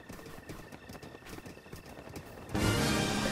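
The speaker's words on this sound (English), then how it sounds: "That's Ganon's horse." Ganon's horse in Zelda: Breath of the Wild, Master Mode, clip-clops in a quick rhythmic run of hoofbeats, fairly close, before a louder burst of game noise swells over it near the end.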